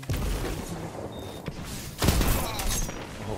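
Gunfire from the shooter Destiny 2, with a burst of sharp reports at the start and a heavier, booming blast with rumbling tail about two seconds in, all fairly loud and with no voices.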